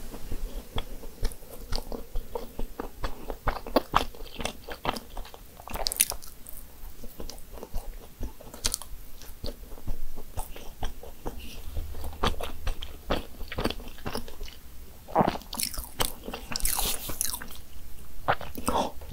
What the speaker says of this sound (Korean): 큰 마들렌 먼저 먹어볼게요